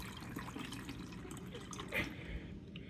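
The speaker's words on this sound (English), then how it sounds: "I just dump in 400 milliliters of distilled water" Distilled water, 400 ml, is poured into a container of stock solution for an STS spray mix, a continuous close splashing gurgle with a brighter surge partway through, a faint voice underneath.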